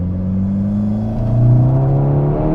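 Seat Leon Cupra R exhaust droning loudly with a deep, steady rumble that swells around the middle as the revs climb, heard close from inside the car with no talking.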